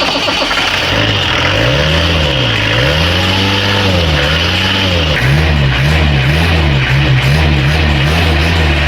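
A 31-year-old vintage Mahindra jeep with a 2522 cc four-cylinder diesel engine revs up close and loud, its pitch rising and falling in a repeated rhythm of throttle blips over a steady idle.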